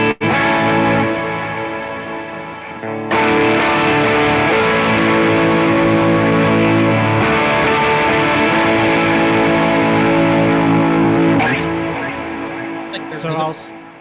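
Electric guitar chords played through a Walrus Audio ACS1 amp simulator with a fat, Bluesbreaker-style drive tone, ringing continuously and loud with distortion and a chorus-like shimmer, a short pause near three seconds.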